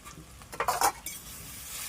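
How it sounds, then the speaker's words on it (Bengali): Arum root (maan kochu) stirred in hot oil in a pan, with a short burst of utensil scraping and clinking in the middle over a faint sizzle, then quiet. "মান কচুটা দিয়ে নেব তেলের ওপরে খুব ভালোভাবে কড়াতে তেলের সঙ্গে নাড়িয়ে নেব মান কচুটা"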